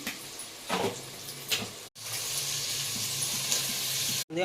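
Ginger-garlic paste and chicken masala hit a hot pan for chicken curry, giving a steady close sizzle with a couple of sharp breaks and light stirring clatter, no voices.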